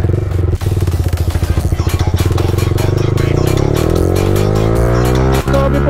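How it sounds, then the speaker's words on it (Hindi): Loud, close motorcycle engine droning steadily while riding on a highway, with a Pulsar 180 and a KTM Duke riding alongside; the engine note rises gradually, with wind buffeting and a couple of brief dips. "हाईवे पे हमारी राइड शुरू हो चुकी है। आगे हमारे साथ चल रही है पल्सर 180 और KTM ड्यू।"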